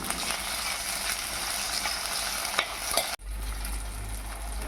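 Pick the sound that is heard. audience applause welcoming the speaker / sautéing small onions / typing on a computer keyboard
sautéing small onions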